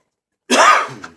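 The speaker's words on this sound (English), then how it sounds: "Sorry about my coughing, man." A single short, harsh cough right up close, bursting out of silence and trailing off quickly.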